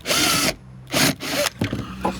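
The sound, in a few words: removing plug from cumaru deck board to reach screws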